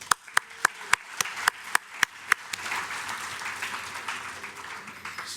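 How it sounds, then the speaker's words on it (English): Event audience applauding a sponsor, opening with a few sharp, evenly spaced single claps that quickly give way to a broad, sustained round of applause. "Round of applause for TD."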